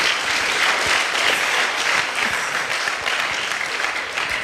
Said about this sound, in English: Give it up for the cameraman.